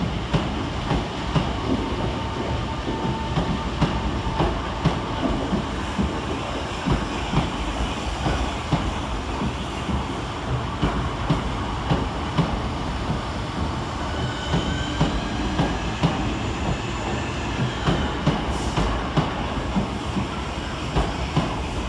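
A Southeastern electric train of two 465 units departs London Cannon Street station, a steady loud rumble of motors and wheels with rhythmic clicks and rising squeals continuing throughout, no talk.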